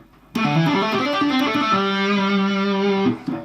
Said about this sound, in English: Okay, on to a little tapping lick then.